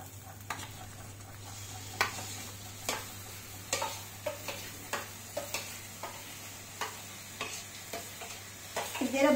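Mashed roasted eggplant sizzles and fries in a pan, with a continuous crackle and a regular series of light clicking stirring strokes. No talking is heard.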